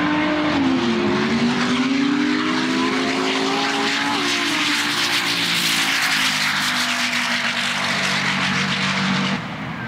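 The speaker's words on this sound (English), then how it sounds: "James Cassiotis was next in the ASG Motorsport-built twin-turbo Turana." A twin-turbo Holden Torana drag car, built by ASG Motorsport, launches down the strip at a muscle car eighth-mile Pro Street event, its loud engine roaring continuously with rising and falling pitch as it shifts, with no talking.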